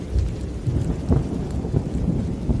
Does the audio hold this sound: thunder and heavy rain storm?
yes